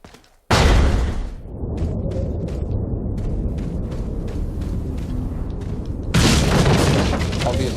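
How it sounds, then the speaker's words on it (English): A hand grenade in a video game goes off with a sudden loud boom, then a long rumbling roar and a second blast surge near the end. "Grenade."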